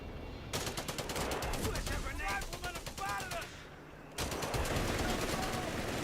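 An MG42 machine gun rattles in rapid, evenly spaced bursts in a World War II strategy game battle, two long bursts separated by a short gap, with background battle noise and a commentator talking over it.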